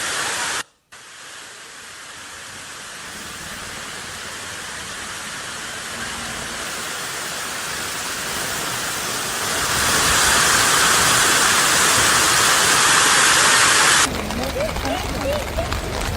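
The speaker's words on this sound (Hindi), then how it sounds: "लगातार इतना पानी बरस रहा है कि पानी की निकासी नहीं हो पा रही है और इसी वजह से अब ये सीढ़ियां झरने जैसी नज़र आ रही हैं" Heavy monsoon rain pours in a dense, continuous roar as water cascades down stairs like a waterfall, the rushing wash growing louder partway through.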